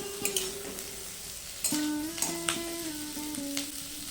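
Chopped tomatoes frying in a pan for dry chilli chicken, a low sizzle under repeated scraping and clinking strokes of a utensil that sometimes ring in a thin squeal.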